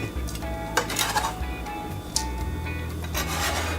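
Cilantro stems being ground with coarse salt, probably in a mortar: gritty scraping and rubbing strokes in an uneven rhythm, close up, with faint background tones.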